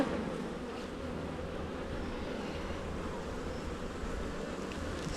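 Honeybees from an open hive being inspected fill the air with a steady, dense buzzing close by, a continuous hum with many wings overlapping and no voices.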